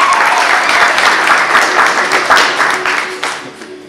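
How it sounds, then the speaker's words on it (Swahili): Audience applause at a church seminar held at a university in Dodoma, a dense, loud wash of many hands clapping that keeps up steadily and then tapers off toward the end. "Tushangilie Bwana kwa makofi mengine"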